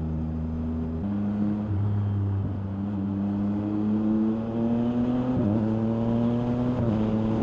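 Yamaha MT-09 motorcycle cruising on an expressway, its exhaust droning steadily with a few gear changes and rising engine pitch, close and continuous over wind rush, no voices.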